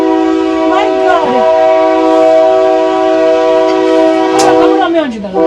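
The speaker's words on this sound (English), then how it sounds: "Train coming in." A train horn blares in long sustained harmonic blasts as a train comes in, loud and close throughout, with a brief fading pitch bend near the end.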